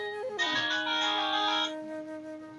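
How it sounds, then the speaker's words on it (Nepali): A phone ringtone sounds in a scene from a Nepali drama serial: one bright electronic burst of about a second and a half, clear and fairly close, with no talking over it. "त्यसैको फोन आयो।"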